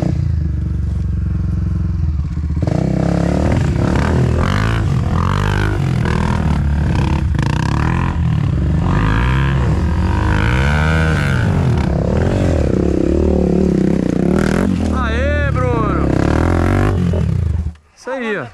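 A trail motorcycle climbs a hill on a dirt trail ride in Mantena, Minas Gerais, its engine revving and straining loudly up close, with clattering and scraping and people talking and shouting over it.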